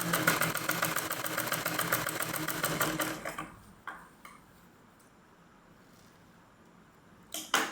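A sewing machine stitches pajama fabric in a fast, steady mechanical whir for about three seconds, then stops, leaving a quiet room with a few faint clicks.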